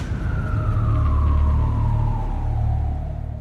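An ambulance siren wails loud and near, a single sustained tone sliding slowly downward as the vehicle passes, over a low rumbling engine and road noise, with no talk.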